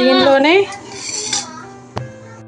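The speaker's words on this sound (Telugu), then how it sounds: "దీనిలోనే మనం కలిపిన బియ్యపిండి మిక్స్ కూడా వేసేసి కలిపేసుకున్నాం" Rice flour mix is stirred into milk in a metal pot, with a clear ringing scrape and clank of the spoon against the pot, close and fairly loud, then a single sharp tap near the end.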